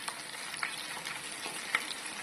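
Masala bonda frying in hot oil, a soft continuous sizzle with a few light bubbling pops, fairly quiet and with no talk.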